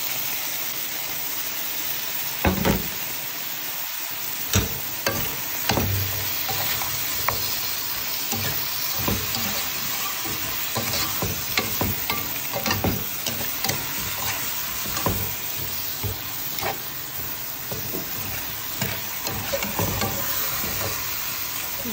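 Bamboo shoots being stirred into pork hock paksiw in a pan, with a steady sizzle under irregular scraping and clacking strokes of a utensil, close and continuous throughout.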